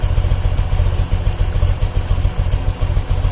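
A BMW airhead motorcycle engine idles steadily and close by with a rhythmic, loping low thrum while its carburetor idle mixture is adjusted using a vacuum gauge, cooling fans running nearby.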